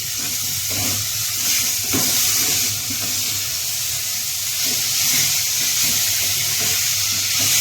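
Squeezed vegetables stirred into a hot, cooked masala, giving a continuous close sizzle and hiss with faint scraping and stirring knocks throughout.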